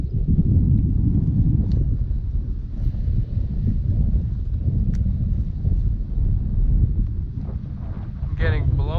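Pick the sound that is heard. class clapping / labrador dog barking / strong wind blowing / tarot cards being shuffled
strong wind blowing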